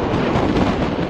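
Strong cyclone wind roars in a steady, dense rush that fills the whole clip. It buffets the microphone continuously and loudly, with no voices over it.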